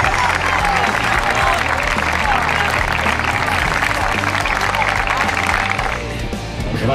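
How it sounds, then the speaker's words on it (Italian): Sustained crowd applause at a youth sports award ceremony in Florence, loud and steady throughout before thinning slightly at the end, with a voice faintly underneath. "facciamo un applauso per questo"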